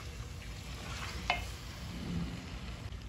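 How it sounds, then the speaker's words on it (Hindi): Masala and meat for an aloo gosht curry frying in oil, a low, even crackle with a brief sharp clink of a utensil midway, close and fairly quiet with nobody talking. "इसे थोड़ी देर भूनेंगे कि ऑयल हमारा ऊपर आ जाए"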